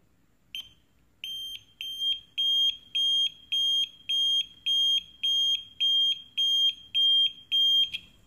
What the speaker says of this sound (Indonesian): maka buzzer akan aktif dalam mode intermittent.